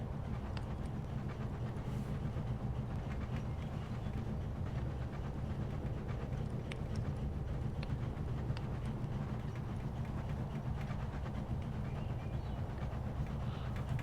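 Steady low rumble of a Minecraft locomotive running along the track, a continuous even drone with faint rhythmic clatter, fairly quiet and unbroken.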